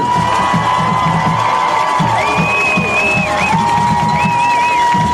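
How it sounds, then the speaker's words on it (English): A stadium crowd cheers and whoops steadily for graduating seniors at a 2012 high school football game between Naperville North and Glenbard North, with a dense, loud roar and a few higher shouts rising through it. "Come on, cheer on those seniors."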